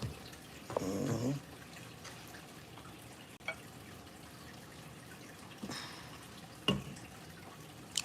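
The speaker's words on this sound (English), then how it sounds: "we talking about your fish tank water and the soothing of the sound of it" Water in a home fish tank trickles and drips softly, a quiet steady background with a few sharper splashes and drips at irregular moments, and no talking.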